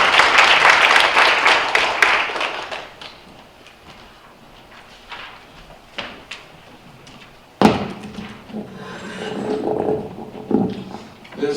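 At a disaster-relief policy forum, an audience bursts into applause that fades after a few seconds, followed by bumps, shuffling and scattered noise as the presenter steps up.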